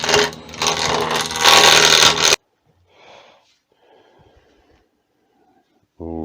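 A wood lathe turns a very dry acacia blank as a tool cuts it, giving a loud, harsh scraping rasp for about two seconds. It then stops abruptly, leaving faint scrapes and a short tone at the end.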